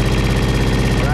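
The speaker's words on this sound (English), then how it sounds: "Okay, the generator is starting." A hybrid boat's generator runs at a steady, loud engine drone with a continuous low hum and even pulsing, no pauses throughout.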